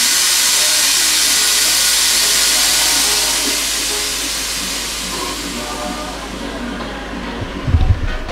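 Compressed air rushes out of an air suspension tank in a loud, continuous hiss that slowly tapers off, followed by a brief low thump at the end.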